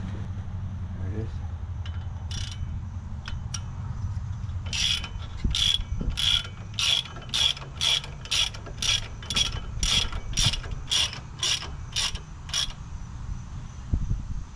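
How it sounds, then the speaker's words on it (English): A ratchet clicks in a fast, steady run of sharp pawl ticks while bolts are snugged on a Ford Transit front brake assembly, loud and close over a low mechanical hum, with a few scattered clicks before the main burst. "I'm going to go ahead and snug that a little bit if I can find my ratchet"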